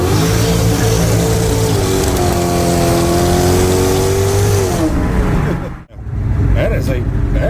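A Chevrolet El Camino with all-new parts idles and revs in a garage, its steady engine drone rising and falling through a long sweep before cutting briefly, then resuming, with people talking over it.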